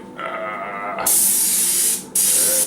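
Airbrush spraying paint onto a 3D costume suit, a steady close hiss that starts up strongly, cuts out briefly, then resumes, with a fainter lower-pitched hiss before it.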